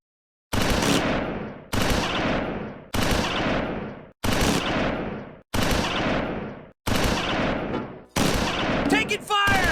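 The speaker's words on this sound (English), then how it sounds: "The Germans return fire." Germans return fire in the WWII strategy game Close Combat 4, set in the Battle of the Bulge at Dasburg: seven evenly spaced loud bursts of automatic fire, each about a second long, separated by short gaps.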